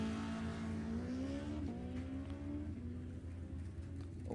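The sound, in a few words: drag race launch: 2019 Tesla and Junior Comp Dragster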